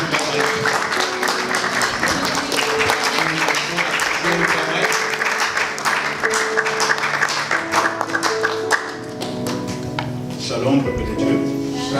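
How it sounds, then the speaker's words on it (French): A church congregation breaks into steady, dense applause with some cheering, loud and continuous for several seconds before easing slightly, with voices heard among the clapping. "Sous vos acclamations"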